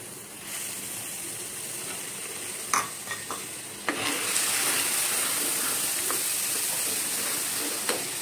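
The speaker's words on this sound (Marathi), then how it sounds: "आता आपण ना ह्याच्यात थोडंसं हे जे आटवलेलं दूध आहे हे घालूया, हळूहळू घालूया।" Reduced milk is poured slowly into hot caramel in a pan for mishti doi, giving a steady loud bubbling sizzle with a few sharp clinks and scrapes of stirring.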